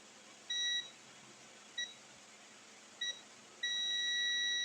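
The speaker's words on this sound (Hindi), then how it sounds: "मीटर को बजर बोर्ड पे लगा के" A multimeter on continuity mode, probing the board of a Redmi 10T phone under repair, gives three short high beeps and then a sustained tone against a quiet background.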